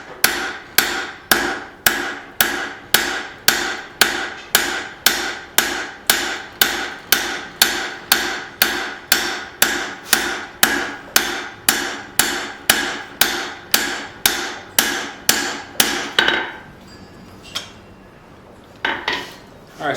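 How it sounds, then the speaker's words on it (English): Cross peen hammer striking hot steel while forging a tomahawk, a steady run of about thirty sharp ringing blows in even rhythm, then the hammering stops and a few faint clanks follow. "I'm using my cross peen here."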